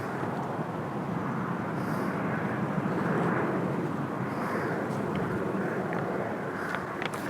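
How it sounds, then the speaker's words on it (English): A helicopter passes over a rooftop garden, producing a continuous broad rumble and whir that stays fairly steady and moderately loud throughout, with no voices present. "So we are on a rooftop though, so that's why we can hear a helicopter"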